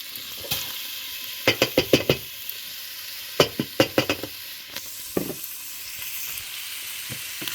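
Red onion and garlic sizzling in a pan, a constant hiss broken by clusters of sharp knocks as the pieces are stirred, close and clear with no speech.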